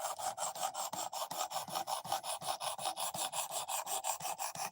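Knife blade drawn repeatedly across a sharpener, a quick regular rhythm of about five raspy strokes per second, close and crisp with no talking.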